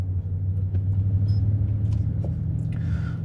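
Car driving along a road heard from inside the vehicle, a steady low engine and tyre rumble that stays constant and fairly loud throughout, with no talk over it.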